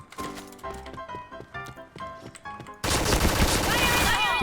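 Gunfire from a gun in the shooter game Point Blank: after a quieter stretch of music, a loud, dense burst of rapid automatic shots fills the rest of the moment.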